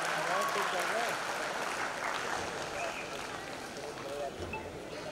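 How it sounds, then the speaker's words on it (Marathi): Continuous applause from the audience at the Maharashtra State Film Awards ceremony, dense and steady, with people talking over it. "जोरदार टाळ्या जरा होऊ दे, जरा जोरदार टाळ्या."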